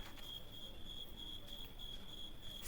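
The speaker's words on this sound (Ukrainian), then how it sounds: "Цвіркуни цвірінчать." Crickets chirp in a steady, high-pitched continuous trill, soft and distant against a quiet night background.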